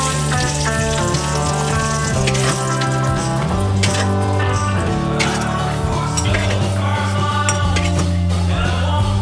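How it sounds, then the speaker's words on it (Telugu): Green chillies fry in hot oil with a steady, close sizzle that runs the whole time, under continuous background music with sustained tones. "పచ్చిమిరపకాయలు ఫ్రై అయ్యాక చూడండి పచ్చిమిరపకాయలు ఫ్రై అయింది"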